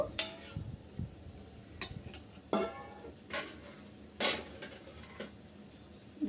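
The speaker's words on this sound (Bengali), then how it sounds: "আমি এগুলো উল্টিয়ে পাল্টিয়ে গোল্ডেন ব্রাউন করে ভেজে তারপর শিরা করে নেব" Pitha cakes fry in hot oil with a soft steady sizzle, broken by several sharp clinks and scrapes of a utensil against the pan as they are turned.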